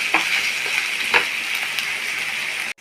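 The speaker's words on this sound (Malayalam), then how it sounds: "എല്ലാം കൂടി നന്നായിട്ട് ഫ്രൈ ആവട്ടെ" Sliced onions and curry leaves frying in a pan, a loud, close, continuous hiss of sizzling oil with a few soft stirring scrapes, no talk, ending abruptly.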